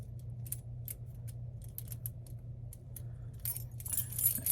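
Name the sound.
keys jangling while being handled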